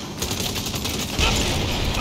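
Rapid gunfire from the Saints Row video game rattles continuously in a dense, loud burst, growing slightly heavier toward the end.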